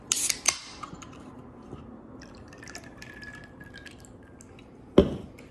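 A splash of Red Bull is poured into a tequila and pineapple juice drink, with a few sharp knocks and drips at the start, a faint trickle in the middle and a final clack, all fairly quiet.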